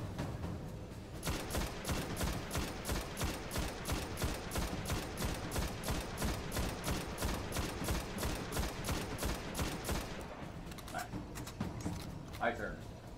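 An auto rifle in the video game Destiny fires a long, fast, evenly spaced burst of rapid shots with the trigger held, continuous for about nine seconds before stopping.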